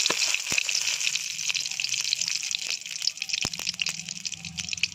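Bay leaves and panch phoron spices sizzling in hot oil for a cabbage egg fry, a steady close crackling hiss with scattered sharp pops throughout.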